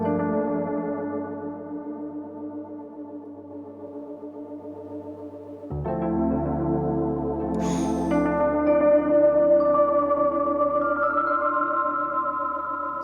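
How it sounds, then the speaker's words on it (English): Simple piano sound fed through an all-analog stereo bucket brigade delay pedal, sustained notes with smeared repeating echoes, growing fuller and busier midway, played alone with no talking. "What you just heard was a simple piano sound going into the Meraki, an all analog stereo in and stereo out bucket brigade delay."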